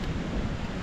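Wind by the sea roars in a steady broadband rush, buffeting the microphone with low rumble throughout this short moment, with no voices.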